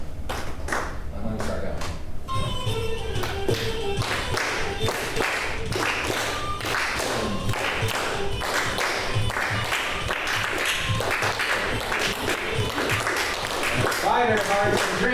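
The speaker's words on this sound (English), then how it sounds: "Let's first just do claps, and we'll clap on the short long" A group claps together in a repeated short-long rhythm during an aural skills and dance exercise, the claps steady and close throughout while people talk over them.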